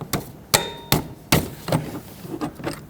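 A 15mm socket wrench breaks loose the idler pulley bolt on a 2007-2009 Saturn Aura serpentine belt setup, giving a series of sharp metallic clanks and knocks at an uneven rhythm, close and fairly loud.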